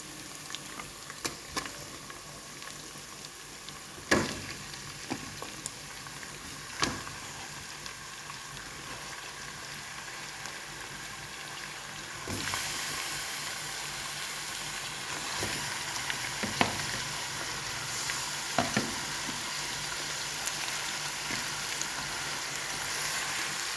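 Chicken fries in oil with ginger-garlic paste for chicken nihari. A steady hiss is broken by scattered sharp pops and crackles, and the sizzle grows noticeably denser and louder halfway through. No voices.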